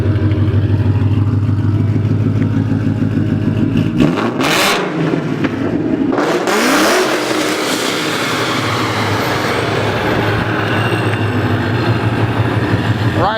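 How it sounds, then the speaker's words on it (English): A 750-horsepower 2015 Ford Mustang idles with a deep, loud rumble, then its engine is revved hard in two sharp blasts that sweep up and fall back before it settles into a heavy, steady drone. "Rev it one more time."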